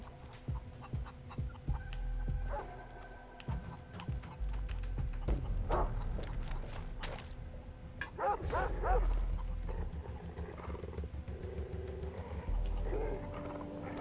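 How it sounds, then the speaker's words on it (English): Dogs bark in the Far Cry 3 video game, with scattered barks and yips against busy game sound effects and rumbling, loudest in the middle stretch. "Oh shit, they got dogs."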